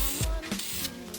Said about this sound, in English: I'm spraying it really far away and really lightly